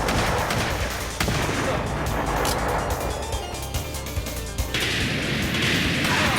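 Gunshots in Sega's 1994 arcade shooter Virtua Cop: a dense, loud stretch of repeated shots and crashing impacts over game noise, with a narrator talking over it.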